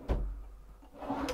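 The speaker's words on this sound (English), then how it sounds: "below that, we have full extension drawers" A full extension kitchen drawer in a 2019 Winnebago View 24J motorhome slides open or shut with a soft thud, then a second faint bump, close and quiet.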